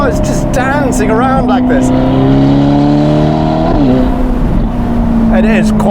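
Novitec-tuned Ferrari Portofino M with 688 hp and an aftermarket exhaust, droning loudly and steadily with shifting engine pitch, close by, under continuous talk.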